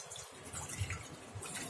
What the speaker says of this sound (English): Here I am adding half cup of water, around half cup of water, little bit.